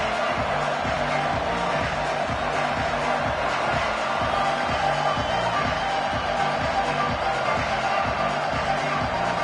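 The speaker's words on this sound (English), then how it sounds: "the crowd is making it really hard to communicate and hear each other right now down on the field" Loud crowd filling a college football stadium at an Alabama versus Ohio State playoff game: a dense, continuous roar with a rhythmic, pulsing chant or drumbeat underneath.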